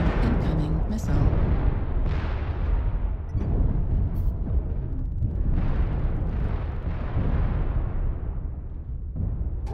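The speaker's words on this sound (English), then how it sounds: "Warning, incoming missile." Incoming missiles explode in MechWarrior Online, a dense, continuous rumble of heavy booms and blasts with sharp bursts scattered across it, loud and close, while a synthetic warning voice speaks.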